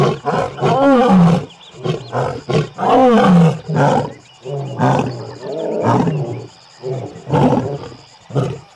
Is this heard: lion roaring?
yes